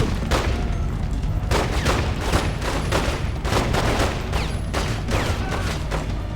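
Rapid submachine gun fire in The Godfather II video game on Xbox 360, loud sustained bursts of automatic shots with short gaps, dense and close throughout.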